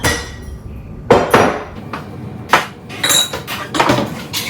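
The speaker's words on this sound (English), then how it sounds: "I'm just gonna go ahead and get more jars out all at once here" Glass jars being pulled out and handled in a home kitchen during pantry mix batch prep, giving a scattered series of close, sharp clinks and knocks of glass against glass and counter.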